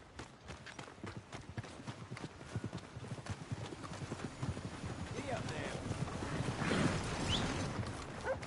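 Horse hooves clip-clop in a PS4 video game, a fast, continuous patter of hoofbeats that grows louder toward the end, with a faint whinny and background game ambience.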